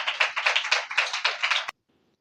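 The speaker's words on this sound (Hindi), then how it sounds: "और यीशु के लिए तालियां बजाओ यार" A congregation claps for Jesus during a sermon, a dense burst of many hands clapping in quick uneven rhythm that cuts off abruptly into silence.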